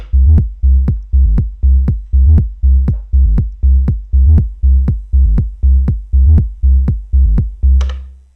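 An Elektron Digitakt plays a deep, loud bass pattern with a sidechain effect, each note swelling then sharply ducking in a steady pumping rhythm of about two beats per second, ending with a brief noisy burst.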